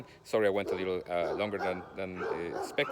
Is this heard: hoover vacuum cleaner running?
no